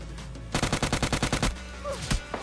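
Rapid M16 rifle fire in the BGMI mobile battle game: a burst of about ten evenly spaced shots, loud and close, followed by a couple of single shots, with no speech over it.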